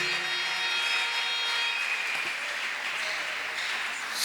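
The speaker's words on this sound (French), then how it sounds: "On peut applaudir pour la parole de notre Tobeti Dieu" A church congregation at a Saturday prayer service for the nation claps steadily. The dense applause fills the space throughout, with no voices over it.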